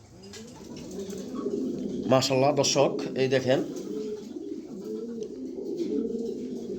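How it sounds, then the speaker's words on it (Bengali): A pair of red checker pigeons, a female and a male, coo in low, rolling phrases throughout, with someone speaking over them partway through. "এটা হচ্ছে একটা রেড চেকার মাদি কবুতর"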